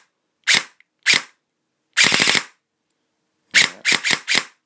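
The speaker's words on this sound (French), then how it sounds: "Et l'automatique qui pêche un peu par sa cadence un peu faible." Airsoft Systema Revolution M110 gearbox firing at a slow cyclic rate: sharp single cracks, then a short automatic burst of about five shots, another lone shot, and a closing burst of four, all loud and close.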